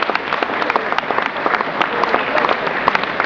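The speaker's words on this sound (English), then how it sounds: "Round of applause." Audience applause at a children's hospital gala, a dense steady wash of many hands clapping, loud and continuous with a faint murmur of the crowd.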